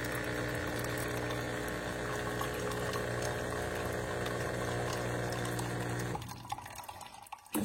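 DeLonghi La Specialista Arte Evo EC9255 espresso machine dispensing hot water: a steady pump hum with water flowing into a glass for about six seconds, then stopping abruptly, leaving faint drips and clicks.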